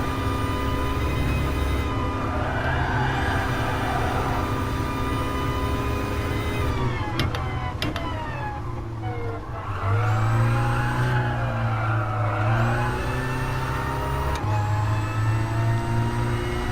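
A diesel car accelerates hard on the Nürburgring during a lap record attempt. Its loud, sustained engine drone climbs in pitch, breaks briefly with gear changes partway through, then pulls on steadily.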